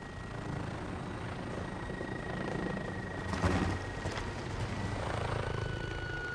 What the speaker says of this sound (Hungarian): Most kell a helikopterre lőni.